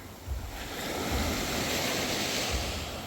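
Small tide waves wash onto a Zanzibar beach in a continuous, fairly close surf rush with some wind noise on the microphone.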